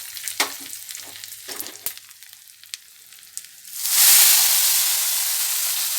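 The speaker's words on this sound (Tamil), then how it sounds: "கடுகு உளுத்த மருப்பு மிளகாய் பெருங்காயம் எல்லாம் போட்டு தாளித்து கொட்டிட்டேன்" Light clinks and stirring give way to a loud, sudden sizzle and hiss as mustard seeds, urad dal, chillies and asafoetida hit hot oil, close and continuing strongly.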